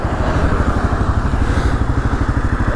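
A 2022 Kawasaki KLR 650 dual sport motorcycle being ridden, its engine producing a loud, steady, close thumping drone with rapid regular pulses and no voices.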